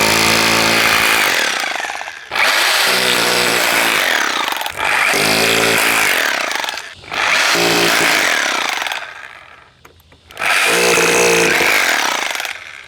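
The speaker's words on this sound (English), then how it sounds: "I'm choosing to drill into the mortar and just put a lot more screws." A loud power drill whines in long bursts, grinding into brick mortar, with short pauses between each run.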